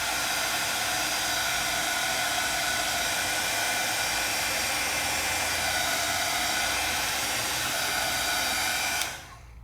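A craft heat tool blows continuously while heat-setting metallic color on a craft project, a loud, even, close rushing hiss that cuts off near the end.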